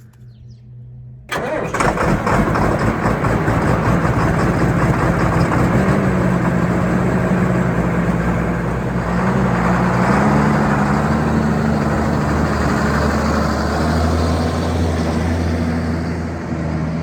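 A farm tractor's diesel engine cranks and catches, then settles into a loud, steady idle with a deep rumbling drone that wavers slightly, close by.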